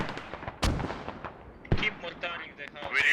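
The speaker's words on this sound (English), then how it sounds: "They're probably going to be landing really close defensive mortars on the southwest side of Hemp Farm here." Mortar shells from defensive mortars land close by in the military shooter game Squad, two sharp booming blasts about a second apart, loud against a busy background of faint gunfire and game noise.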